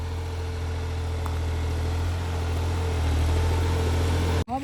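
A New Holland 3630 tractor engine runs steadily at idle, a low, even diesel hum with constant vibration, near and fairly quiet, ending in a brief bump at the close.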